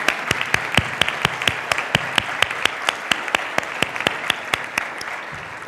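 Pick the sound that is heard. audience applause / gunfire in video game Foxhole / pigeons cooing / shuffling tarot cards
audience applause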